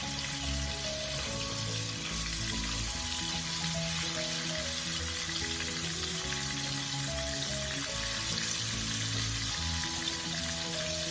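Salmon fillets sizzle and fry in a hot pan, with the non-scale side placed down first for Kenyan-style fish served with ugali. The frying is a steady, close, loud crackle that runs unbroken throughout with no talking.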